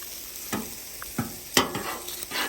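Chicken pieces hit leftover beetroot oil over an open fire, giving a close crackling sizzle with a few sharp spits and pops across a short stretch.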